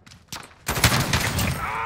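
A shotgun fires in Call of Duty Modern Warfare: a short burst of loud, sharp blasts rising out of a quieter start, followed by sustained noisy gunfire and game clatter.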